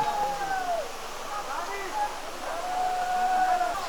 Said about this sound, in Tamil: 5 அருவியா? 5 அருவிங்க.